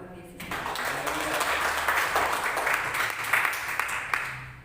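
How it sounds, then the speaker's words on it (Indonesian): A church congregation applauding during a worship service, a fairly faint, steady wash of clapping that runs for a few seconds with some voices underneath. "Tepuk tangan buat Tuhan Yesus."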